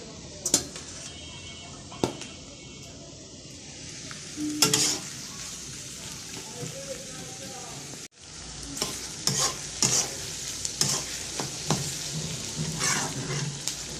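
Onion and dried fish frying in oil, a steady crackling sizzle marked by repeated spatula scrapes and clinks, with a brief break midway before the frying resumes.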